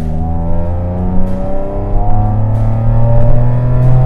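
A yellow Chevrolet Camaro with a 3.6 V6 accelerates at full throttle from about 50 km/h, its engine a loud, steady droning growl that rises gradually in pitch, heard from inside the cabin with no talking.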